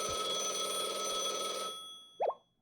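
A telephone rings inside a phone booth in the video game Blue Archive, a sustained electronic ringing tone with steady harmonics that cuts off partway, followed by a brief rising chirp; no talking.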